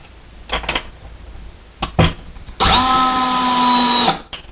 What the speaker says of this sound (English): We're going to catch our second screw before we go all the way in.